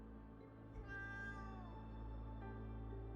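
A cat in a video game gives a single drawn-out meow that rises and then falls, set over a steady low game hum with no talk.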